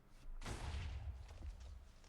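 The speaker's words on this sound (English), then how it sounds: "an explosion happened right when I say bye" A sudden explosion in the Minecraft GregTech New Horizons modpack bursts in loud and broad, then decays into a rumbling, crackling tail over about two seconds.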